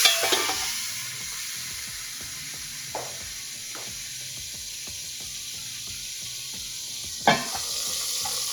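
Soaked cardamom water poured into hot ghee in a pan for sweet vermicelli, giving a steady close sizzle and hiss with a few scrapes and clinks of a lid or spoon on top.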